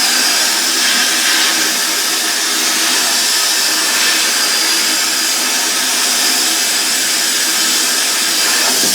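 Aluminium castings get sandblasted at 80 psi, a loud continuous hissing rush of air and grit that holds steady throughout, with no voices.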